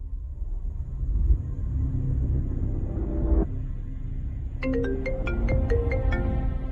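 A mobile phone ringtone plays as an incoming call arrives, a bright melodic chime pattern starting partway through over a low background rumble, with no speech.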